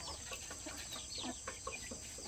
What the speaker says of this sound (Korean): 이 닭은 잘하면 알을 품을 것 같습니다